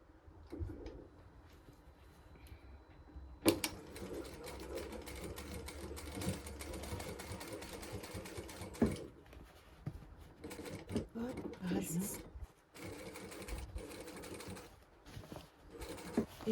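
A sewing machine stitches a second seam along the waist of a pair of jeans, a close mechanical whirring run that starts and stops several times, with quiet clicks and handling noises between the bursts.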